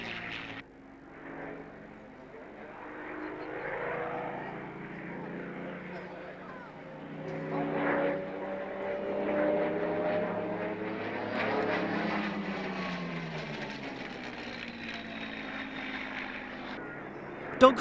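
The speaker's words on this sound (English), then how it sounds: "here it comes, low and fast in the shape of the ME-109 with Nigel Lamb at the stick." Messerschmitt ME-109 fighter sweeping past low and fast at an airshow, its propeller engine droning with rising and falling pitch as it passes, under a commentator's voice.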